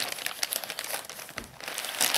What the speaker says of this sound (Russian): Давайте будем открывать. Здоровая такая упаковка